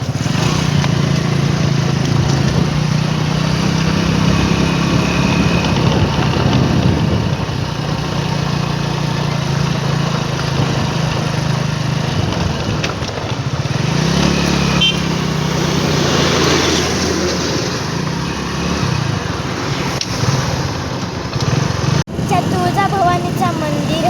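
A tempo, a small goods vehicle, runs steadily near a farm field, its engine a loud continuous drone for the whole stretch with people talking over it.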